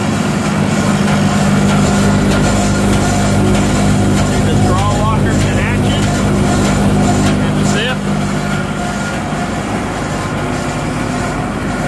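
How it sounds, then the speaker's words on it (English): A small Perkins diesel engine on a Massey Ferguson Kincaid 8XP combine runs close by with a loud, smooth, steady idle, a continuous rumble under a person talking. "Little Perkins diesel is purring away."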